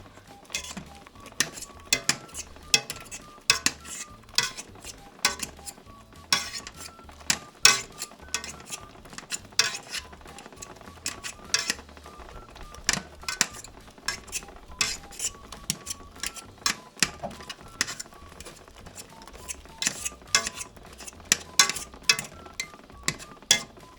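Cooked peaches mashed in a pot for jam, with a steady run of sharp metallic clinks and scrapes of a masher against the pot, repeating irregularly throughout at close range, no speech.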